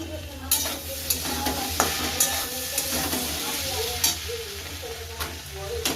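Roti sizzles steadily in a hot pan, punctuated by soft, repeated pressing and scraping taps from a cloth, with no talking.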